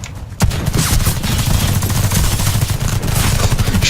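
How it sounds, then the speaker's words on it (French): Rapid gunfire from the video game Warface, a dense, continuous burst of automatic shots that starts abruptly after a brief quiet moment and stays loud and close throughout. "j'ai entendu des tirs"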